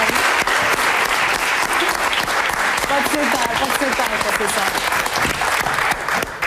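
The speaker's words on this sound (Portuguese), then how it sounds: "isto merece um aplauso, esta força de vontade" A studio audience on a television talk show about obesity and weight loss applauds loudly and steadily throughout. Speech runs under the clapping, and a voice addresses someone near the start.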